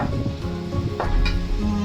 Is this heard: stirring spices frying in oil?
yes